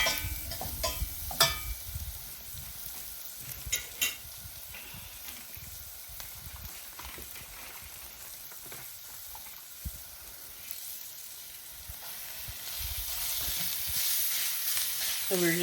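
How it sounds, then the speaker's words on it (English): Ground beef sizzling in a hot pan while cooking beef stroganoff, a soft steady hiss and crackle with occasional clicks and stirring bumps. "And then I'm gonna add in our ground beef"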